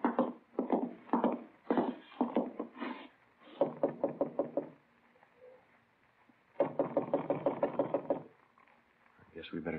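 Knocking on an apartment door in a radio drama, several bursts of firm, rhythmic raps in quick groups, close and loud, separated by short quiet gaps.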